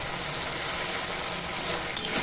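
Hilsa fish fries with stone-ground mustard masala, a close and steady sizzle with faint stirring scrapes throughout.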